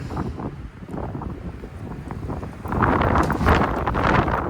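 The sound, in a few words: wind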